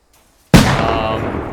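A single sudden, loud explosion in the vehicle combat game Death Race, booming at once out of near silence and then rumbling on as a long, fading roar.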